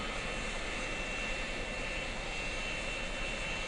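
A combat aircraft's engine in the Vietnam-era flight game Air Conflicts Vietnam, a steady, unbroken jet roar with a high whine, close and constant throughout, with no talking.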